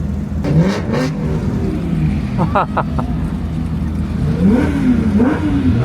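A V8 Porsche race car engine revs hard on track, rising and falling in loud, close bursts as the car accelerates flat out, with speech mixed in over the roar.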